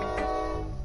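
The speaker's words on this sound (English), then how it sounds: "Is this a long train?" A distant train rumbles past, a steady low drone with horn-like tonal bands and a brief brighter burst near the start, sustained at even loudness through the short stretch.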